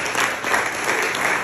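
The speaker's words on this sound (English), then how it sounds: "give yourself a round of applause" A crowd at a weight-loss program gathering breaks into brief applause, a dense burst of clapping, loud and close, filling the whole moment without any voices.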